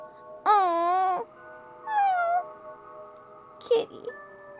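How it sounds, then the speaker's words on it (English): A cat cries out in a horror video game, giving two long, loud wavering meows followed by a short sharp yelp, each standing alone against a quiet, steady ambient drone. "A cry accompanies the box as it falls to the floor, but it's a familiar sound. It's a cat!"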